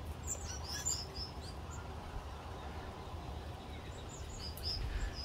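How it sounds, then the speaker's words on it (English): Small birds chirp and tweet all around, quick high calls scattered through a faint outdoor hush, some near and some farther off, with no talking. "There's little birds all around me"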